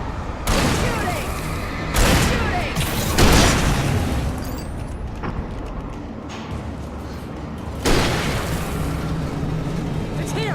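Repeated heavy booms and blasts from combat in the video game Alan Wake, loud and close, with bursts of gunfire-like crackle between them, while voices shout over the action.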